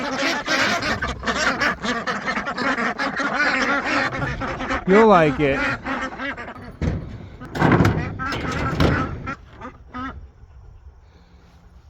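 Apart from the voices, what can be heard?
ducks quacking in their new house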